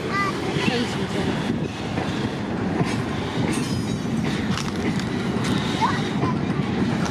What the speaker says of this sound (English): There goes SV17 again. Shunting the grain wagons.